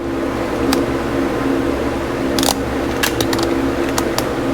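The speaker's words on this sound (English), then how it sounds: "I should apologize for the air conditioner noise that I got going on in here" Air conditioner running steadily in a hot workshop during a vintage Honda CB350 engine rebuild, a constant loud hum with a few sharp clicks and taps from work over it.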